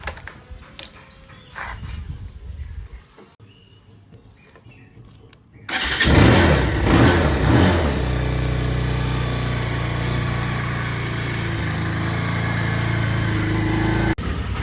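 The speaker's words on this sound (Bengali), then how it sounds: "তো এখন সময় বাইক একটা কোল্ড স্টার্ট দেওয়া।" A motorbike engine is cold-started after a few quiet clicks and fumbling, catching abruptly with a loud burst and then settling into a steady, close idle.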